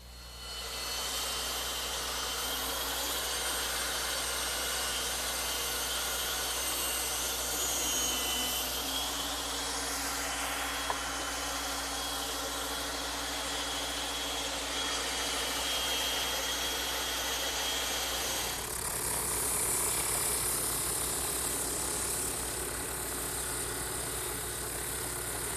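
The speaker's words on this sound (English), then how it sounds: "now it's back to the bandsaw and the drum sander" A bandsaw and drum sander shape wooden rocking horse pieces, giving a steady, loud, continuous machine whine and rushing noise throughout, with a shift in tone partway through and no talking.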